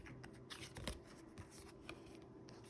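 An oracle card deck is shuffled by hand, giving a run of soft, close riffling and papery flicks with a few sharper snaps, heard alone in a quiet room.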